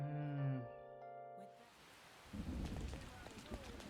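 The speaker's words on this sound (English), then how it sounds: "And it's raining" Steady rain patter in the video game Persona 5 rises after a tonal musical passage fades, with soft rumbling underneath and a continuous wash of drops through the end.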